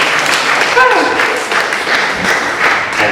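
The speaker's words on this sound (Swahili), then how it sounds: "Hebu tumpigie makofi mengi na shangwe na nini." A congregation at a church conference gives a dense round of clapping and cheering that carries on steadily from start to end, with voices mixed into the crowd noise.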